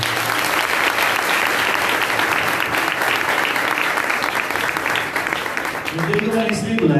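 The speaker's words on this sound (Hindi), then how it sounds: "एंजल के लिए जोरदार तालियां।" Loud, sustained applause from a large audience at an indoor prayer gathering, dense clapping filling the whole stretch, with voices rising near the end.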